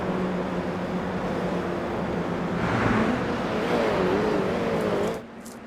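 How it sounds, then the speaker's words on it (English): Toyota GR86 race cars pass at Circuit Gilles Villeneuve, a steady engine drone swelling as they go by, with a higher revving note rising in the middle before the sound drops away near the end. "Look at those GR86 cars just fly by."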